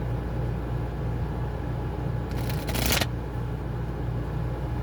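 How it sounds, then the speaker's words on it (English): A single quick riffle of tarot cards being shuffled, a brief crisp fluttering burst lasting under a second over a steady low hum of background noise. "One more shuffle."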